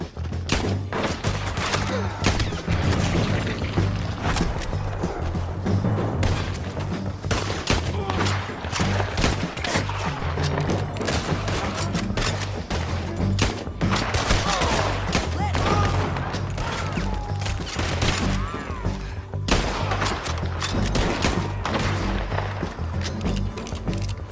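Gunfire in a Red Dead Redemption 2 shootout at Beecher's Hope, dense, loud and continuous volleys of rifle and pistol shots with thuds and crashes, under occasional shouting.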